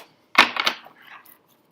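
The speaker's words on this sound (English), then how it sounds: "These cards are just delicious to shuffle." A deck of tarot cards riffled close by, a quick burst of flapping card edges that settles into a softer ruffle.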